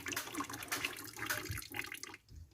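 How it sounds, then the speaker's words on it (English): Water gushes from the drain valve of a central heating magnetic filter, tapped before the boiler on a blocked system being flushed, in a close, continuous hissing rush with no voices. "Now if I open this valve here, this is just like the drain point for the magnet filter."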